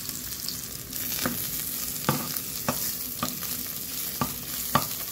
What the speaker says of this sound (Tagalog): Antayin lang natin na brown ang bawang.